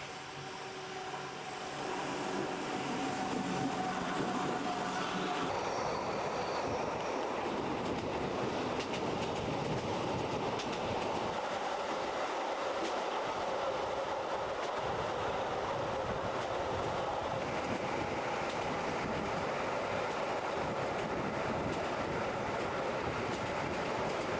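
A locomotive-hauled metre-gauge train from Chur, bound for St. Moritz, pulls into Stiefenkastel station in Switzerland in 1996. A steady, loud rolling rumble carries faint clickety-clack of the wheels and brake hiss throughout, with no voices.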